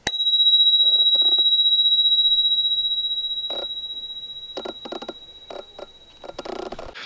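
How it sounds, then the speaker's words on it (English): A single loud strike of a Spurcycle bicycle bell rings out and resonates, fading slowly over several seconds, then a few short clattering handling sounds follow. "the bell has a small footprint on its own, but then this bell is just so loud and just resonates forever."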